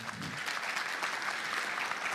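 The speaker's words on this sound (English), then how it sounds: "Let's have a round of applause to Adiel." Audience applause at a conference forum, a steady wash of many hands clapping, moderately distant and even throughout the brief moment.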